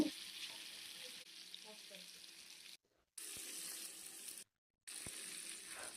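Fish pieces frying in oil on a dosa pan over a low flame, a steady broadband sizzle that cuts out twice for brief silent gaps before resuming at the same level.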